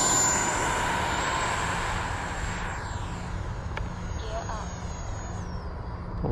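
FMS Futura 80mm electric ducted fan RC jet in flight, a steady high whine with broad rushing air that holds for the whole stretch and eases slightly in the middle, with faint voices underneath.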